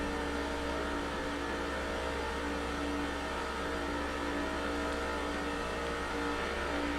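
A steady, droning roar of NASCAR race car engines in the NASCAR 06 video game at Talladega, a constant dense pack sound at even loudness with no pauses and no talk.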